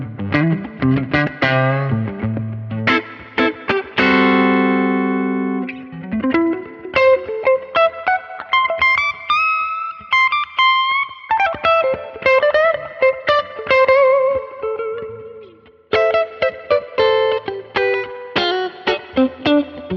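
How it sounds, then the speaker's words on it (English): Electric guitar through an Axe-Fx III Fender Super Reverb amp model, with a clean, warm tone and lush reverb, played solo in chords and melodic runs, full and close throughout. "I'm having a lot of fun with the Fender Super Reverb, and it's sounding like this"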